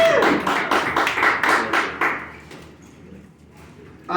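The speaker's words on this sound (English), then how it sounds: "Give yourself a round of applause." A comedy club audience claps briefly, a quick burst of hand claps that fades out after about two seconds, leaving quiet room tone.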